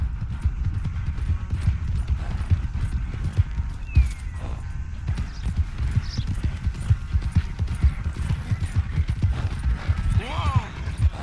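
Horse hooves clip-clop steadily in Red Dead Redemption 2, a quick continuous rhythm of close, clear hoofbeats with a brief whinny-like call near the end, running under game ambience and speech.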